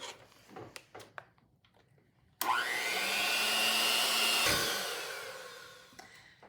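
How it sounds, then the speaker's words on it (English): An electric hand mixer creams butter, sugar and flavour extracts for Italian Christmas cookies, starting abruptly after a few light kitchen clatters and whirring loud and steady for several seconds before fading down. "we are going to take our mixer now, and we are going to mix until it says until smooth and fluffy"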